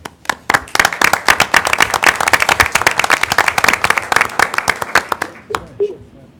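Audience applause at an Iowa City city council meeting in 2017: dense, steady clapping from many hands for about five seconds, then thinning out and fading, with faint voices underneath.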